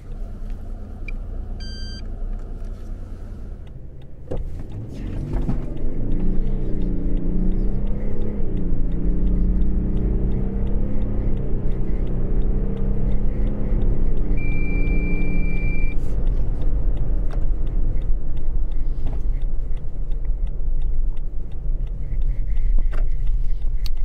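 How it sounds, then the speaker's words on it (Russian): A two-ton Lexus LX 500d diesel SUV pulls hard from a standstill toward 100 km/h. After a quiet idle with faint electronic beeps, a loud, steady engine roar swells and holds, its pitch climbing and dipping through gear changes. "Сейчас будем замерять разгон от 0 до 100"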